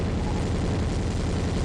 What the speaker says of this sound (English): And those are a lot of explosion sounds.